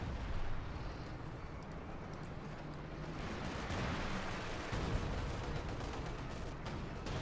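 Howitzer artillery and gunfire from a Company of Heroes 2 battle form a dense, continuous rumble of distant explosions and scattered shots, moderately loud, steady throughout, with no speech.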